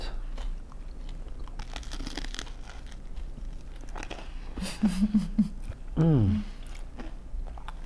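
Biting and chewing raw milk cheese topped with honey, with soft crunchy chewing sounds close up and a person humming in appreciation near the end.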